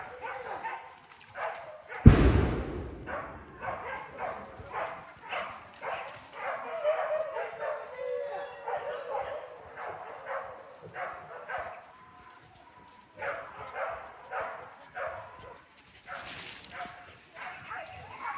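Hunting dogs bark and yip repeatedly during a hunt, a pack of large and small dogs giving frequent, uneven barks at moderate distance, with one sharp loud bark near the start and a steady noisy outdoor background.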